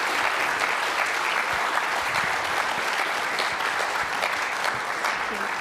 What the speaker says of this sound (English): one more round of applause for our panel guests